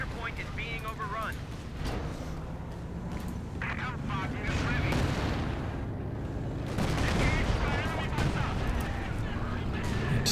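Gunfire and artillery fire from a Company of Heroes 2 4v4 battle in Lienne Forest rumble and crackle continuously at moderate loudness, under steady commentary from a man.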